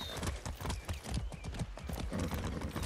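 A horse ridden in the video game Far Cry 6 clip-clops in a quick, even rhythm of hoofbeats. The sound is close and continuous, with no talking.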